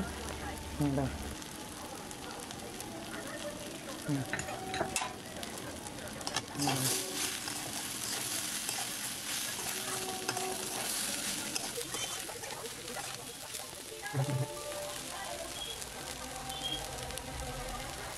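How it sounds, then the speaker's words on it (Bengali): Rice grains dry-frying in a pan with salt and turmeric for a Bengali muri ghonto, giving a steady broadband crackle and patter with a few sharper scrapes, a soft voice murmuring in the background. "আমার মতো নুন হলুদ দিয়ে চালগুলোকে ভালোভাবে ভেজে নেব।"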